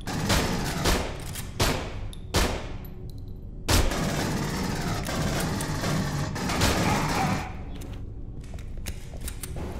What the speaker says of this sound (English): I'm enjoying taking pop shots with this pistol.